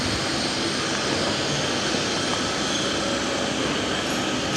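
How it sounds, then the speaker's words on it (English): A milling machine cuts a keyway into one end of a water pump rotor shaft, giving a steady, loud, broadband mechanical roar that holds evenly throughout with no talking. "we will use a milling machine to mill a keyway in one end of the rotor shaft for the impeller installation"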